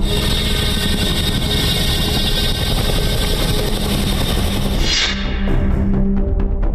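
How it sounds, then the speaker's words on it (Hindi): Indian Air Force Chinook heavy-lift helicopter thundering steadily overhead, a dense continuous rotor and engine roar that holds loud throughout with a brief whooshing swell near the end. "ये भारतीय वायुसेना का चिनूक हेवी लिफ्ट हेलीकॉप्टर है"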